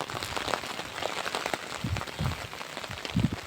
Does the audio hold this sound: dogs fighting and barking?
no